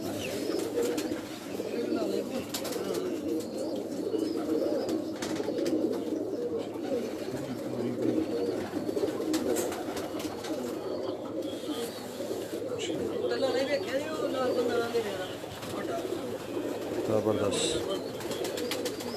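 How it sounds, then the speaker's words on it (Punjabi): Sialkoti pigeons cooing on a rooftop loft: a continuous murmur of low, overlapping coos from several birds, moderately loud and close, while people talk throughout. "ਸਿਆਲਕੋਟੀ ਕਬੂਤਰ ਬਹੁਤ ਹੈ ਜੀ ਇਨਕੇ ਪਾਸ ਮਾਸ਼ਾਅੱਲਾ"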